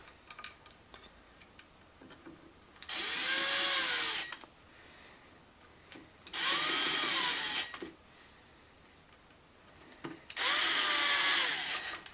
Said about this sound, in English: Get the other 4 screws in.